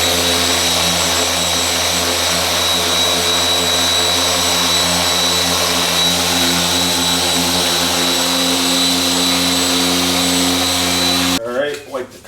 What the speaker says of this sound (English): I'll just take my time and buff this out